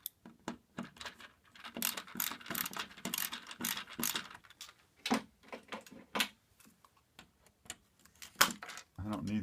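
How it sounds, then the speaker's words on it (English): Small metallic clicks, scrapes and ratcheting taps come close and quiet in irregular bursts as wires are unscrewed from a solar panel connector box that sat on a roof for ten years. "So I am just unscrewing these wires here."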